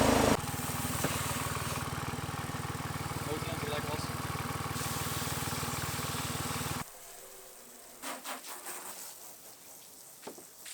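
A BMW E46 engine runs steadily and loudly for about seven seconds during a test, then cuts off abruptly, leaving quieter background noise with a few faint knocks.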